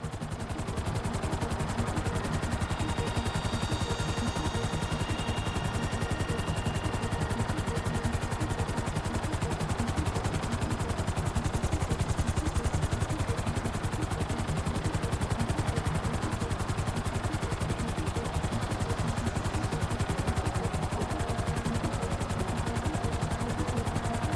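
Helicopter hovering in Grand Theft Auto V, a steady loud rotor and engine drone that runs unbroken and close throughout, with no voices.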